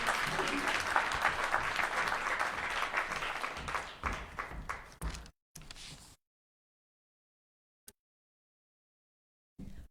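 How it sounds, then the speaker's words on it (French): Talk-show studio audience applause for a columnist swells as a dense, loud crowd clapping, thins into scattered claps and stops abruptly around five seconds, followed by silence and a couple of brief isolated sounds. "On peut quand même l'applaudir pour sa magnifique chronique qu'elle va nous offrir."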